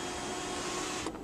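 Electric sunroof motor on a 2012 Volkswagen Passat whirring steadily as the roof opens inside the cabin, a close, even mechanical hum that stops abruptly near the end.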